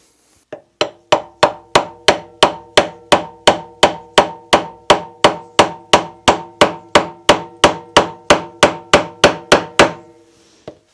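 A mallet drives a chisel into wood to cut a mortise for a workbench, landing about two dozen sharp, evenly spaced blows close up, each ringing briefly before the next, then stopping.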